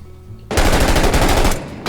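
Sustained machine gun fire in a realistic shooter game erupts suddenly after a quiet moment, a loud, close, rapid stream of shots lasting about a second before cutting off.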